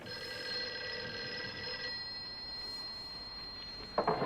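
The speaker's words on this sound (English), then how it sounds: "Answer the fucking phone, lady." A telephone rings in the 1959 film The Bat, a steady electric bell tone sounding under faint hiss, fading out partway, followed by a brief clatter.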